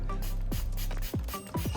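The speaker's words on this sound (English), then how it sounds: "I'll start by gently pressing the knife against the rotating sandpaper." A knife blade grinds against rotating sandpaper, with several scraping strokes and whooshing sweeps over a steady mechanical hum, close up.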